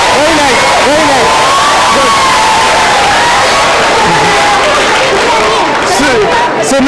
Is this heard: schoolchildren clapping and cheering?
yes